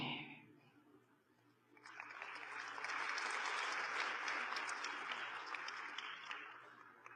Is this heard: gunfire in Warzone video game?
no